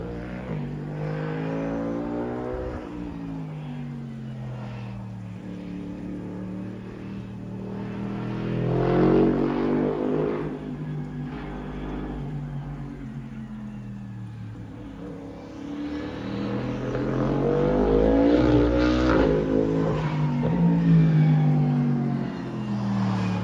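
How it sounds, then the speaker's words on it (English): A Lexus LF-R prototype drives on a test track, its engine note rising and falling through repeated revving passes, loud and fairly close, with a swell around the middle and another build toward the end. "a Japanese leaker that showed that LF-R being tested with a massive rear wing"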